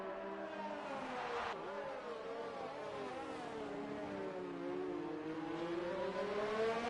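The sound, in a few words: Racing Point Formula One car engine, from a racing video game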